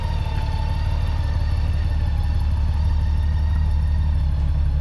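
A 2009 Honda Goldwing motorcycle engine runs at a steady low rumble, close and continuous with a faint mechanical clatter, and no one speaks.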